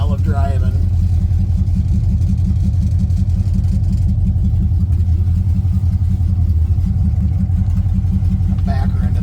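A 1979 Pontiac Trans Am with no cooling fan idles and creeps while being backed into a parking spot, its deep engine rumble close, loud and continuous throughout.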